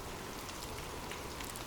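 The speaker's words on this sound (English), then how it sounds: "The sound of abundant rain." Steady background rain falls as a dense, even hiss and patter, constant and soft throughout with no voices.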